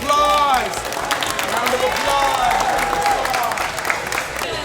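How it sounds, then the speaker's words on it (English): Crowd applause at a Ninja Warrior competition, loud and steady through the whole stretch, with a coach's voice cheering over the clapping and crowd noise. "Everybody give yourself a round of applause."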